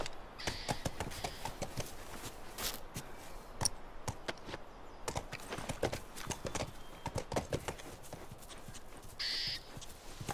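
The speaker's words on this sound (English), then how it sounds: "That's our horse." Horse hooves clip-clopping steadily in The Last of Us, a brisk rhythmic gait near a ranch, loud and close with a brief whinny-like note, no talk over it.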